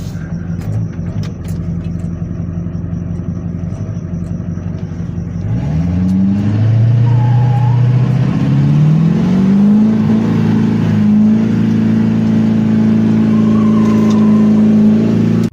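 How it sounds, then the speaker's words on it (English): A loud, close race mower engine idles roughly, then revs up hard for a burnout and holds a high, straining roar for several seconds. "this dude wants to see me do a burnout"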